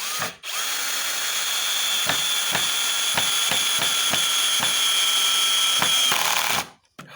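A power drill driving screws into a wooden pergola frame, a loud steady whine held for several seconds, broken by repeated knocks and clicks as the screws bite, spinning down at the end.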